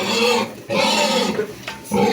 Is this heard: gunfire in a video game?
no